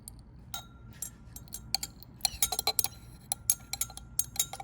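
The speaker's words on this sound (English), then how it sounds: "I also have my glass stirring rod, and I'm going to pour slowly and stir simultaneously" A glass stirring rod clinks against a glass vessel while a chemical solution is poured and stirred, giving a series of light, bright ticks, sparse at first and then quicker and irregular, close and clear.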